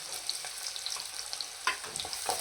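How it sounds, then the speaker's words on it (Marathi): Crushed unpeeled garlic cloves and finely chopped onion frying in oil for a spicy Malvani surmai curry, a soft steady sizzle with occasional stirring clicks, close and moderately quiet, no talking. "तीन लसणाच्या पाकळ्या न सोलताच फक्त चेचून घेतलेल्या आहेत त्या आपण तेलावर टाकणार आहोत"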